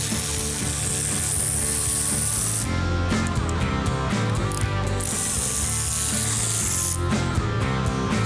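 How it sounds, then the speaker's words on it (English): Ratchet undoing the bolts that hold a car's differential third member in a shop, heard close and loud as a fast continuous clicking and whirring that pauses briefly, then resumes. "now I'm going to undo all the bolts that hold the third member in place"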